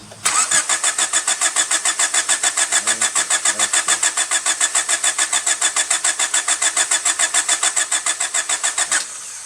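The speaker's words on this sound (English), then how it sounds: "crank the engine." A Honda Civic Del Sol with a no-spark ignition fault cranks for about nine seconds, the starter churning in a fast, even rhythm, loud and close, without catching.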